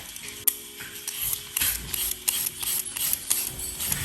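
Caesar salad with lettuce and carrots tossed in a bowl, with rustling, crunchy mixing sounds and light clicks of utensils in quick irregular bursts, close and moderate, no talk.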